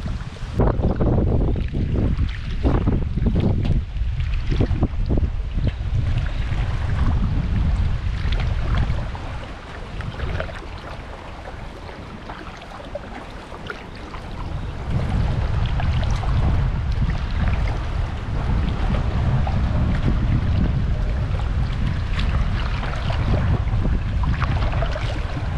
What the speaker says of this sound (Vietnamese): Gió quá trời gió luôn, thôi đi các bạn.